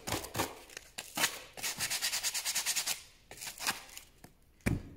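Sandpaper scrubs off dried decoupage glue that has spilled over an edge, a run of quick, regular rasping strokes in the middle flanked by slower, scattered rubs, close-up with no talk.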